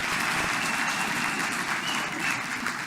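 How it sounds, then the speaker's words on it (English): Audience at a memorial lecture clapping steadily and loudly, a dense continuous wash of applause with no break across the whole stretch. "you must clap hands for me"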